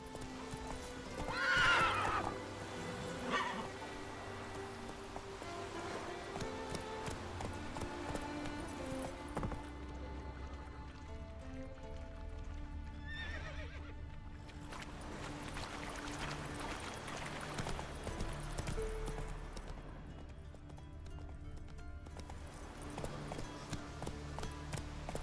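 Horse in the Witcher 3 video game, lost in the woods, neighs loudly near the start, then its hooves clip-clop steadily against a soft ambient game background, with no talking.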